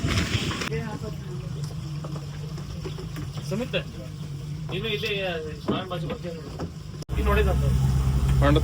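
A boat engine drones steadily on the Kabini backwaters during a safari ride, a low hum under people talking, swelling louder near the end.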